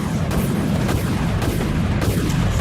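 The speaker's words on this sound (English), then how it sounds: "Launching torpedoes." Torpedoes launching from a giant spaceship in the free-to-play space combat game Dreadnaught, heard as a continuous loud rumbling barrage with several heavy booming thumps through its short length.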